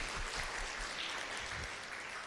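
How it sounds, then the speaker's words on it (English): An audience at a community-of-practice gathering claps for a speaker in a steady wash of hand claps at moderate loudness that fades slightly toward the end. "Let's clap for her. Let's appreciate her."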